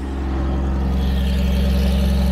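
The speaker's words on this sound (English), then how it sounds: "I can hear an exhaust leak down here as well on this side" A Jaguar V12 engine with four carburetors runs at a steady idle with an exhaust leak, producing a continuous low, even drone at moderate volume with no talk.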